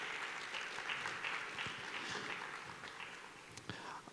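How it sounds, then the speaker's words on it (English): An audience applauds at a school FBLA induction ceremony, with steady mid-distance clapping that runs throughout and slowly thins toward the end. "If you would join me in giving them a round of applause"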